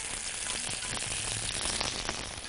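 Tomatoes frying in a pan for a simple egg-and-tomato breakfast dish, giving a steady, dense sizzle with faint crackles throughout, close and continuous with no talking.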